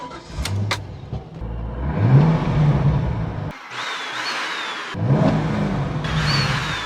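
A loud Corvette V8 engine revs up and down in several bursts, a throaty roar mixed with a whiny, breathy hum like a vacuum cleaner, close by.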